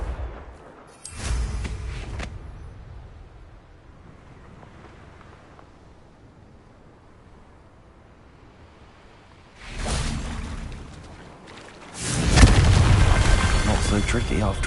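A Confringo blasting spell goes off in Hogwarts Legacy, a loud booming burst that swells and rolls on for a few seconds, with an earlier, shorter blast near the start and quieter rumbling in between.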